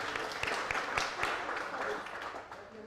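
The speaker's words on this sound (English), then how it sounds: "Big applause to all of us" Participants give a round of applause after a lecture, moderately loud clapping that starts strong and gradually thins out, with a voice briefly heard over it.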